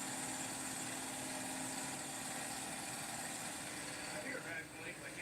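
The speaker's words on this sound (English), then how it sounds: "It's definitely idling way too high." A car engine idles too high with a suspected vacuum leak, giving a steady, faint mechanical drone with a constant hum and a light hiss, unchanging throughout.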